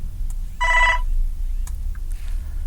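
A telephone rings once in a short electronic trill lasting about half a second, clear and fairly loud over a quiet room with faint low background rumble and no talking.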